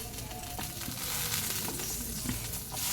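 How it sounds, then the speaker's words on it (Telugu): Green chillies fry in hot oil for a tomato roti chutney, giving a dense, loud, unbroken sizzle with occasional soft stirring clicks close by. "ఇప్పుడు కొద్దిగా ఆయిల్ వేసుకుని మళ్ళీ ఈ పచ్చిమిరపకాయలు ఉన్నాయి కదండి పచ్చిమిరపకాయలు మనం ముందు నూనెలో వేసేసుకోవాలి"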